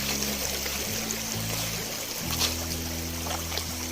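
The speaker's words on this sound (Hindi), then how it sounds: "पानी की आवाज़ आ रही है।" A river in Uttarakhand flows with a steady broadband rush of water, continuous and fairly near, with a low hum running underneath.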